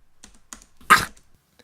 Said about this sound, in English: It's basically like a sneezing of a slightly bigger dog, Roscoe.